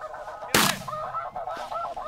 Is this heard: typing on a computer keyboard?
no